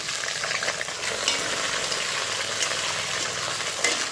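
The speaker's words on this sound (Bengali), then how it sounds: "আলুগুলোকে এরকম হালকা লালচে কালার করে ভেজে সেই সাথে দিয়ে দিচ্ছি রেডি কিছু বেগুন" Potatoes fried to a light reddish color, with eggplant pieces added, sizzling in hot oil in a pan. The crackle is steady and close, with faint stirring scrapes and no talk.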